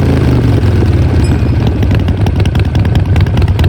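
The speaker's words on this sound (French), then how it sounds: "C'est ce bruit-là, le fameux potato, on entend, qui est dû à son architecture moteur." A Harley-Davidson motorcycle engine idles loudly and close by, with a deep, uneven, loping rumble that pulses steadily throughout.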